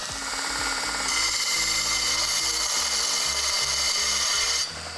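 A power tool notches a 1.25 inch steel tube in a shop, a loud continuous grinding whine holding steady throughout with a tone shift after the first second, then cutting off near the end.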